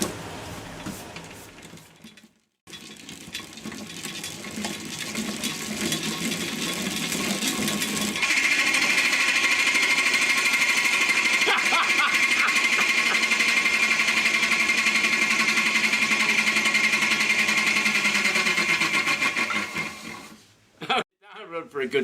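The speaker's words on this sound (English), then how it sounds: "It cranks up really cool. There's a bit of a rumble because I used an old freewheel" A homemade chain-driven flywheel generator with an old freewheel cranks up. Its loud, rattling mechanical rumble builds and holds steady for several seconds, then cuts out near the end.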